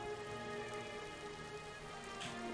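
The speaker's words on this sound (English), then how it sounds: "It's still raining." Steady rain falling in Minecraft, a continuous close patter of drops on surfaces that holds even across the whole stretch with no voices.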